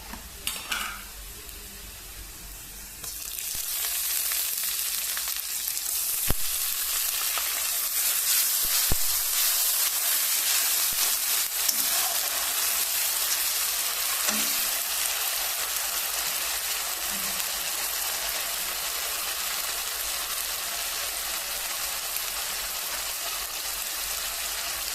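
Spices added to mustard oil with lightly fried onions for a thin rohu fish curry: after a quieter start, a sudden loud hiss breaks out and settles into continuous close sizzling with occasional utensil scrapes.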